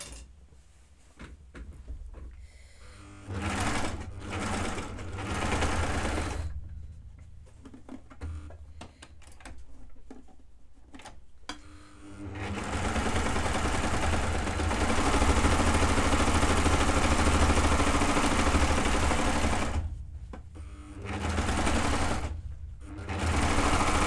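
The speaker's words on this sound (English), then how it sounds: "so I'm going to sew or overlock my back curve." A sewing machine or overlocker sews the back curve seam of children's overalls, running in loud sustained stretches broken by short stops, with fabric handling and a voice in the quieter gaps.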